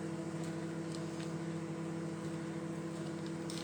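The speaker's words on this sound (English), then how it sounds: "So if you are melting chocolate in a microwave, you put it in on full power for 1 minute and then give it a stir." A microwave oven running on full power while chocolate melts inside, giving a steady close hum with a constant low tone and no talk throughout.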